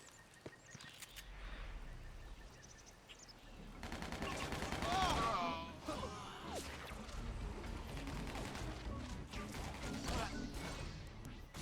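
Gunfire from Spider-Man: Shattered Dimensions, a steady barrage of shots and impacts building from a quieter start into dense, loud bursts with crashes layered over game music and effects.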